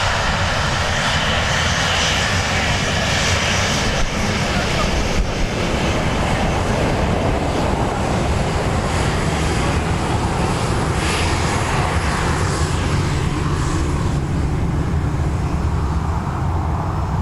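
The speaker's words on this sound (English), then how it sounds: "Ryanair heading to Lisbon." A Ryanair airliner departs Dublin Airport bound for Lisbon, its jet engines a loud, steady roar that holds throughout with no voices.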